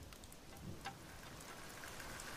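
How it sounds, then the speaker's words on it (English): Rain falling in a steady, soft patter with scattered individual drop ticks, fairly quiet and unbroken, with no voices. "I don't care that it's raining."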